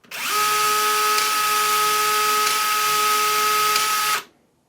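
DeWalt DCE410 cordless brushless PEX expander expanding 1 inch pipe, one steady, loud mechanical whine lasting about four seconds before it stops abruptly, with no talking.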